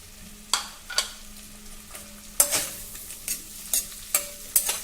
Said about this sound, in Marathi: अर्धा ते एक मिनिटासाठी बटरमध्ये हा भोपळा देखील आपल्याला परतून घ्यायचा आहे